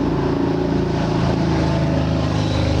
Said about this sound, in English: Let this motorcycle go by.